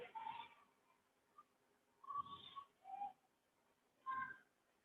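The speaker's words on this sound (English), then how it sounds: "Maybe the sounds of birds." Soft bird calls in short separate bursts, a few seconds apart, faint and somewhat distant in an otherwise quiet setting.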